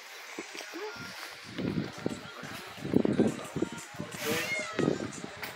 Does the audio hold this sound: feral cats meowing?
yes